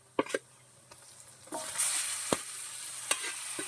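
Chicken frying in a pan with turmeric: a loud sizzle builds midway and holds steady, with occasional sharp stirring scrapes and clinks over it.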